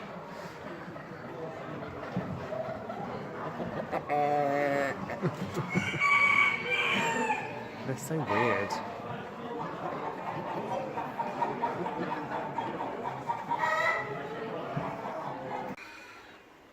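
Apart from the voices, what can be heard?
cockerels crowing and clucking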